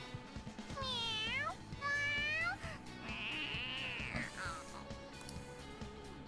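Morgana, a cat character in Persona 5, lets out a string of drawn-out, wavering meows and caterwauling cries, loud and close, with a steady tone and rumble underneath.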